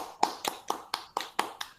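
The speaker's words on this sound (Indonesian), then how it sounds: "tepuk tangan untuk kita semua" Hands clap in a classroom, seven sharp claps in a steady, even rhythm, close and clear with no talk.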